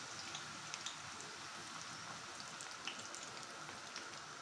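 Food fries in hot oil, giving a steady crackling sizzle with scattered sharp pops throughout, close and fairly even, with no voices.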